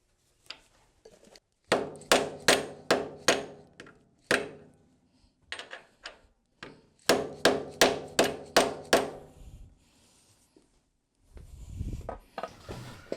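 Hammer blows drive a spindle bearing cover into the headstock of a 13x40 engine lathe, sharp metallic strikes in two quick runs of about seven evenly spaced hits each, with scattered lighter taps between, close and loud.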